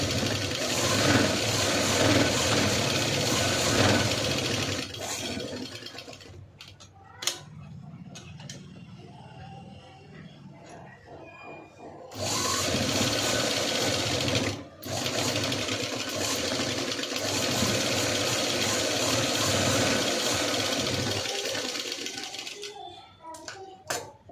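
A sewing machine double-stitches lace onto a blouse in long, loud, close runs, broken by a quieter stretch in the middle and a few brief stops.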